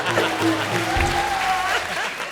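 A studio audience at a televised comedy show bursts into loud, sustained applause, with music tones running under the clapping.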